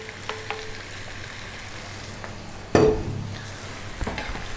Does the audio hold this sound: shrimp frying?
yes